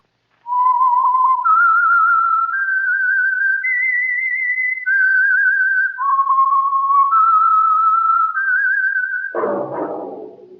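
A clear whistled theme melody of sustained, wavering notes rising and falling, closed by a short burst of orchestral sound, from a 1946 radio drama.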